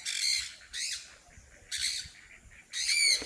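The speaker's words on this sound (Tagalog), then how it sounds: "may mga alaga din silang manok, bibe, tsaka mga ibon. May mga lovebirds." Farm birds, including lovebirds, give four loud, harsh squawking bursts at a steady rhythm, close by, with quiet pauses between calls and no talk.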